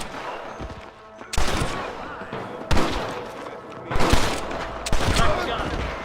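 Several loud gun volleys in the video game Red Dead Redemption, with four sharp bursts spaced about a second apart, each trailing into a rattling crackle over background battle noise.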